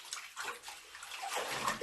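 Wild garlic leaves dunked and swished in water, a soft continuous slosh and splash close by with no talking.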